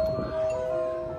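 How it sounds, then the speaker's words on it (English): An interactive doorbell chime at Universal Studios Hollywood, near the Despicable Me area, rings as a clear sustained bell tone that fades slowly over a murmur of park noise. "they have these cool interactive doorbells."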